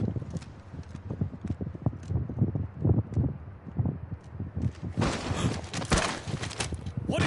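Horse hooves clip-clop at a steady walking pace in Final Fantasy 16, with a wooden, hollow quality, followed by a burst of wind-like rustling near the end.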